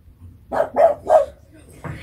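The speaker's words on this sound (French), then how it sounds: "Les chiens qui aboient dehors." Three quick barks from dogs outside, fairly close and loud, followed by a fourth bark starting at the end, with a quiet room around them.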